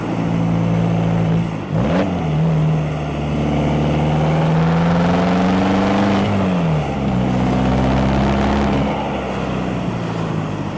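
A salvage-title Volkswagen TDI diesel car pulls hard as its turbo boost comes on, the engine note climbing steadily, dipping briefly at a shift, then rising again. The sound is loud, close and continuous, with no talking.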